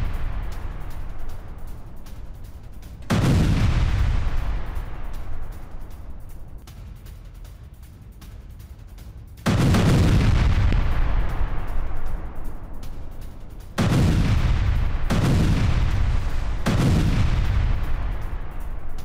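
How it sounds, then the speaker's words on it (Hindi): Heavy explosions from an Israeli airstrike on the Fordo nuclear site in Iran: several loud, deep booms, each followed by a long rumbling decay, with the later blasts coming in quick succession. "फोर्दो न्यूक्लियर साइट पर इजराइल ने की थी बमबारी।"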